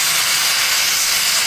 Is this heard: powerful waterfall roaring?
no